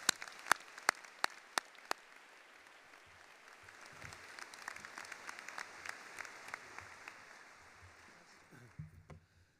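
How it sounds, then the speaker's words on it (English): Quiet, distant applause from a veterinary medicine commencement audience, scattered claps over a soft wash with a few sharp nearby claps early on, tapering off at the end. "One more round of applause for the class of 2023."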